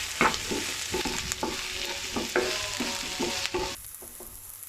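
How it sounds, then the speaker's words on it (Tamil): Onions and dried red chillies sautéing in a pan: a close, continuous sizzle broken by rhythmic stirring scrapes, easing off near the end. "வெங்காயத்தை போட்டு நல்லா வதக்கணும்."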